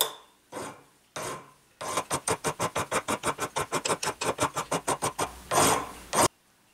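A hand file rasps steadily across a wooden clock part in a long run of quick, even strokes, preceded by a few slower single scrapes and ending with two longer rubs.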